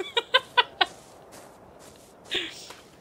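A bird in ARK: Survival Evolved gives four quick, evenly spaced clucks, fairly close and clear, followed by a softer squawk-like burst after a short pause.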